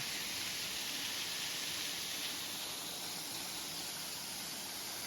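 Thung Na Muang Waterfall in Khong district produces a steady, broadband rush of falling water, close and unbroken throughout.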